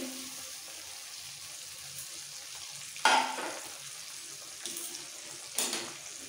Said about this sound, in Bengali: এই মশলার বাটিতে সামান্য একটু জল দিয়ে বাটিটা একটু ধুয়ে এর মধ্যে দিয়ে দিচ্ছি।